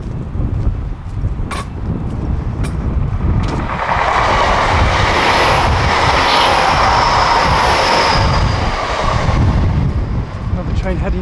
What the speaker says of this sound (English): Another train heading north.